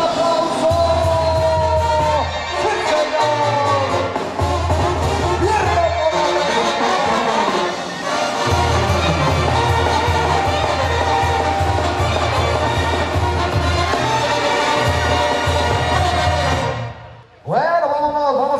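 Loud, dense rodeo crowd cheering and applauding at Rancho La Mision in Jojutla, Morelos, with a brass band playing a diana fanfare over it, sustained and full for most of the stretch before cutting off near the end.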